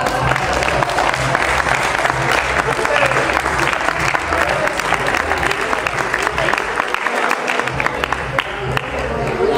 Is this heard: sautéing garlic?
no